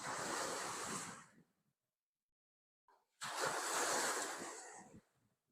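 Strong ocean waves hit the shore in two loud, rushing surges, each a broad roaring wash lasting over a second, separated by a near-silent gap before the second wave crashes in.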